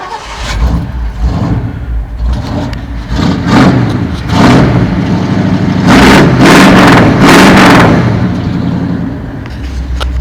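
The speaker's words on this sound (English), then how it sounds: "But I'll fire it up again. Let you hear the exhaust a little better." A 1973 Ford F250 Highboy pickup's engine starts and revs through its exhaust, loud and close, with repeated throttle blips swelling into a sustained roar before settling back; no talking.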